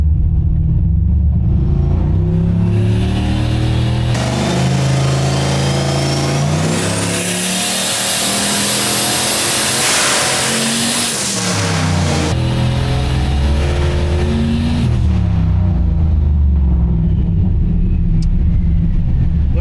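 A turbocharged Oldsmobile engine running on a dyno with a Holley Terminator X controller, revving loudly in a rising sweep to a roaring peak, then falling back, with a strong, clear exhaust tone and no talk.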